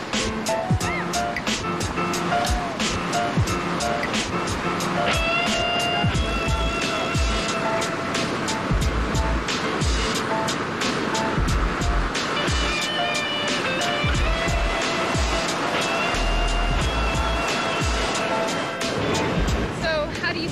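Steady ocean surf rolls and crashes continuously at a surfing beach, forming a dense wash of water noise with voices and music mixed over it.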